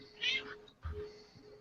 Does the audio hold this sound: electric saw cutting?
no